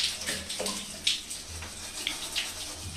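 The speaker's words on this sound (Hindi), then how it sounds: "देखिए पानी से कुछ इस तरह से, देखिए हमने पाइप लगा लिया है और इसको हम क्लीन कर रहे हैं पूरा अंदर से" A hose pipe runs water inside the tank of an electric geyser during cleaning, with a steady rinsing splash and gurgle and a few brief louder bursts, close and continuous.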